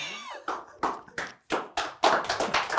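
Talk-show studio audience clapping: a series of sharp, separate claps about every half second, close and loud, with no talk over them.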